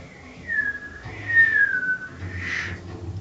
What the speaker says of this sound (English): Some sort of like a whistling sound, but Missile. from far away